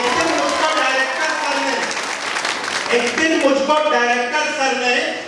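Sustained applause from a poetry gathering audience in Patna, a dense wash of clapping with some crowd noise, lasting several seconds.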